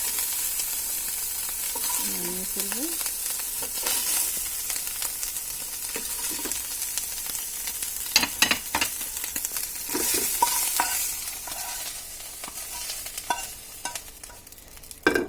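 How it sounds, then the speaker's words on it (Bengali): Meat fries in oil in a pan, giving a continuous close sizzle broken by scraping stirs and spatula knocks, with no talk. "আমাদের মাংসটা ভাজা হয়ে গিয়েছে, এখন আমি এটাকে নামিয়ে ফেলবো।"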